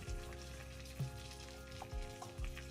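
Garlic and onion sizzle as they fry in a pan, a steady low hiss with a few soft thumps and scrapes of stirring, close but quiet.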